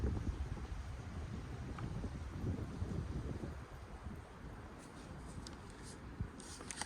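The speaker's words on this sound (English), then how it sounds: "It's windy right now" Wind buffets the microphone in a steady, low rumbling rush, fairly faint, with a few light rustles over the top.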